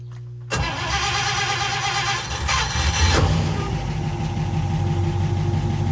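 Graymarine AMC V8 marine engine with a worn oil pump cranks briefly and catches, settling into a loud, steady running rumble with a rise in revs partway through; no talking.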